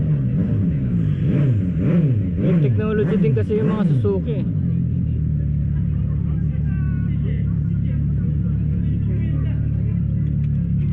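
Close-up idling of a Suzuki V-Strom SX250 single-cylinder motorcycle engine, a steady low rumble with a brief rev early on, running under continuous nearby talking.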